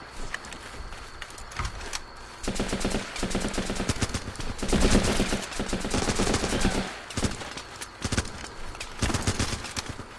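Rapid video-game gunfire fires in bursts: a weapon shooting while enemies in the water are picked off, dense cracking volleys with short pauses between them, loud and upfront.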